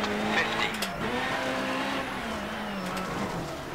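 Rally car sliding across tarmac in the Richard Burns Rally video game, a steady engine drone with a tonal tire squeal rising and falling through the slide, close and continuous, with a voice talking over it.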